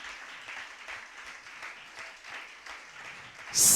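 A church congregation claps together in a dense, steady patter of applause for several seconds, moderately distant, before a louder burst at the end.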